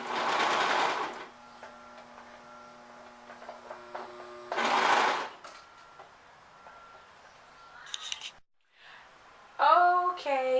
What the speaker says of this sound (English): So I finished my bottom hem of my dress, and again I used my cover stitch machine.